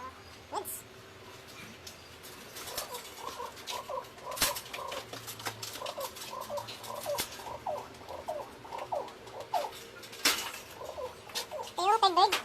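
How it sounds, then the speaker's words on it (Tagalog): A pet bird in a home calls in repeated short chirping phrases, moderately close, with scattered clicks and small background noises around it. "Ito yung third bird, si Tsunade."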